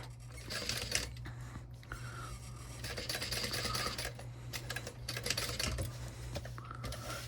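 A sewing machine stitches along an existing seam line on fabric for a cat-ear hat, giving a steady near mechanical whirring with brief pauses and restarts.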